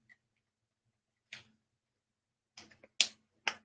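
A camera shutter button pressed several times, giving sharp isolated clicks, one alone and then a quick cluster of three or four close together, near and fairly quiet against a silent background.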